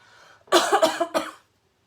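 A single close, harsh cough made of several quick bursts, with near silence on either side.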